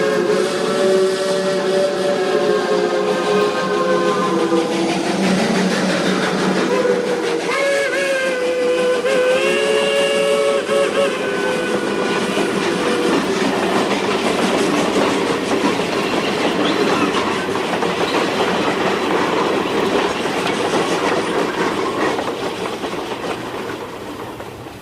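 A steam train whistles in several long, wavering tones over the rhythmic clatter of the rolling train, then the sound thickens into a dense roar as it enters a tunnel, a loud radio drama effect.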